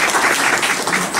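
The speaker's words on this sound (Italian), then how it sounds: "Ricci Painting, un applauso a questo artista" An audience at a contemporary art exhibition opening applauds an artist, a brief burst of dense, even clapping that is fairly loud and close, with no speech over it.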